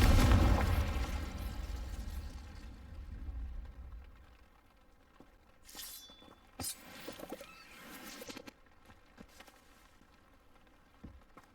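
A deep explosive blast from the Confringo spell in Hogwarts Legacy opens the clip loudly and fades into a rumble, followed by scattered pops, crackles and small impacts at lower volume.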